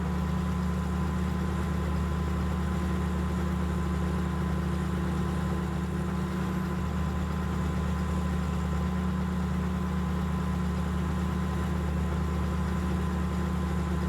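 Tractor engine in the farming video game Farming Simulator 15, a steady low droning hum that holds evenly throughout at moderate level, with no speech.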